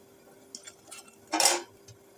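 Fried raw-banana koftas dropped into simmering malai gravy in a pan over a low flame, a brief clatter and a soft splash of pieces landing, with a few light clinks of utensils before it.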